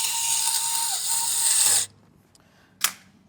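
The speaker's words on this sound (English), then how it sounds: "So what I'm going to do is temporarily bolt it on." A hand ratchet bolts a plate bracket onto the rear of a car. It makes a steady, close, rasping clicking for nearly two seconds, then falls quiet, and one sharp click follows.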